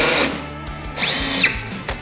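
Power drill backing bolts out of a Greenworks go kart during assembly, short whirring bursts that rise and fall with a louder spin-up in the middle, close and alone without talk.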